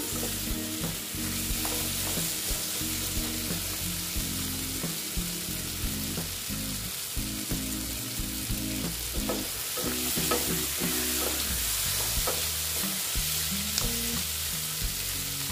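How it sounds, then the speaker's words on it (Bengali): Soybean chunks and potatoes fry in a pan while being stirred: a continuous close-up sizzle with repeated scraping strokes and soft knocks of the spatula, steady throughout and without talk. "ভেজে নেব, কষিয়ে নেব।"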